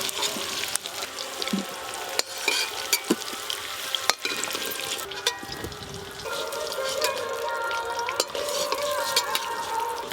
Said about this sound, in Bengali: জিরে, আলুগুলো খুব ভালো করে ভেজে নিয়েছি।